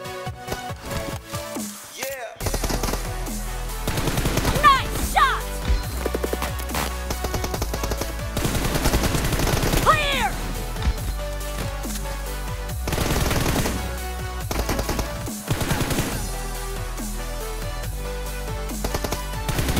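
Rapid hip-fire gunshots in the mobile shooter PUBG Mobile, bursts of automatic gunfire repeating through a dense game soundtrack, loud and close with brief pauses between volleys.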